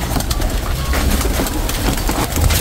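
Racing pigeon breeders cooing during feeding, a steady mix of soft low coos and bird calls filling the space at close range with constant background noise.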